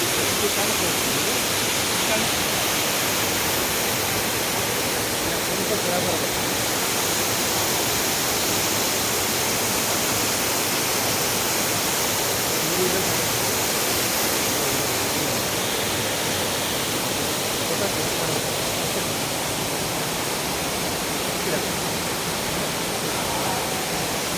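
A waterfall pours steadily into a deep pool, giving a loud, unbroken roar of falling water that holds for the whole stretch with no pauses or breaks.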